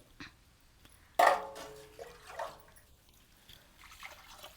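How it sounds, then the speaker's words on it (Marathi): A full jug of water splashes into a pot on a wood-fired stove in a sudden loud burst, then several softer sloshes and trickles follow irregularly, close by and otherwise quiet. "पूर्ण एक तांब्या पाणी वतलेला आहे"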